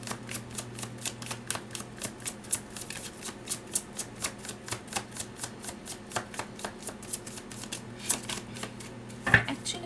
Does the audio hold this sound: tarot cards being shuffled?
yes